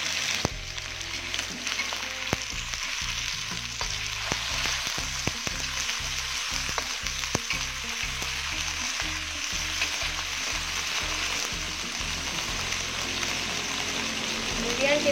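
Tuna pieces fry in a pan with sautéed shallots, a loud continuous sizzle broken by repeated scraping stir strokes, with a voice talking over the cooking.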